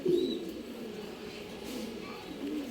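A male Lal Chini pigeon in Bangalore coos in a low, steady murmur that runs through the whole stretch, fairly close and moderately loud, with no one speaking.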